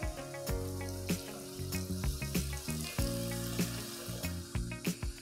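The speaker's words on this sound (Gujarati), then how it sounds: "હવે એમાં થોડુંક પાણી આપણે એડ કરીશું રગડા માટે." Water is poured into a pan of cooking misal masala for ragda, giving a quiet sizzle and bubbling with small clinks of stirring throughout.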